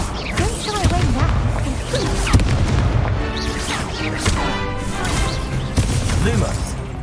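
In Hogwarts Legacy, the Incendio fire spell is cast amid a heated battle: loud, rolling booms and crackling blasts come in quick succession over dense game effects and music.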